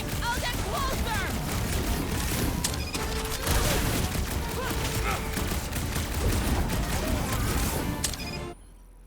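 Gunfire in Marvel's Guardians of the Galaxy, a dense, continuous barrage of blaster shots and impacts under music and effects, loud throughout and cutting off abruptly near the end.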